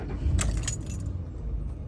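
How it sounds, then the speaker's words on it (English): Keys jangle loudly up close in the ignition of a Ford truck, bright metallic rattles bunching in the first second, while a steady low rumble holds underneath throughout. "Let's turn on the truck."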